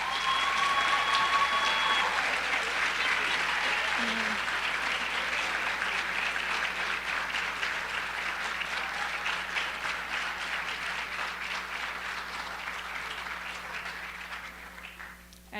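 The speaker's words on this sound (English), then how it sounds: "Could everyone join me in a round of applause for our new inductees?" An audience at a high school National Honor Society induction ceremony applauds the new inductees, a sustained, dense round of clapping from many hands that gradually thins and fades toward the end.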